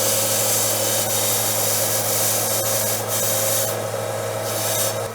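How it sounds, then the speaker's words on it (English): Very light sandpaper rubs the finish off a graphite golf iron shaft, making a continuous close scratchy rasp with a few louder strokes toward the end and no voices. "now I'm just going to take off the finish with a really, really light, kind of super light sandpaper"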